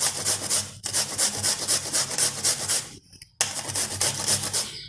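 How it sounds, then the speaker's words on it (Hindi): Radish is grated on a fine grater in close, loud, rhythmic rasping strokes, broken by a short pause near the end before the scraping resumes. "तो इस तरीके से आपको मूली को घिस लेना है।"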